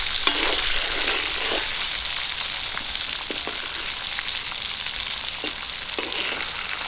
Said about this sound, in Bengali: লবণ হলুদ দিয়ে সব বেগুন ভেজে নিয়েছি